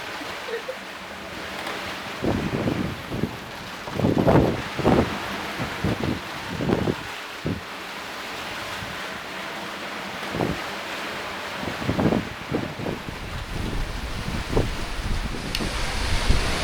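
Gusty wind buffets the microphone in bursts aboard a boat crossing the Atlantic, over a constant wash of open-sea waves, with louder thumps and rushes coming and going.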